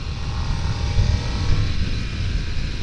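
Harley-Davidson Nightster Special motorcycle from 2023 pulling in a lower gear on the road, a steady close low engine rumble with wind noise.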